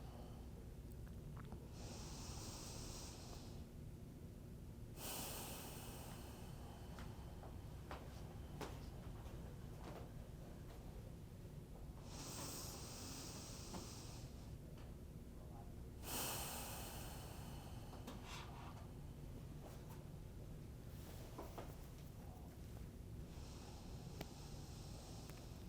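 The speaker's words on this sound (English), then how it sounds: "I'm going to start with a few deep breaths." Slow deep breaths close to the microphone, in long alternating inhales and exhales repeating every few seconds, soft and airy over a steady background hum in a painting studio.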